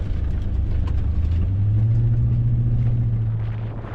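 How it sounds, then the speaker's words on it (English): A tow truck pushes off-road through deep ground, a heavy low engine rumble that swells and holds steady as it strains, fairly close, then eases slightly at the end, with no talking. "That tow truck should not be going through this."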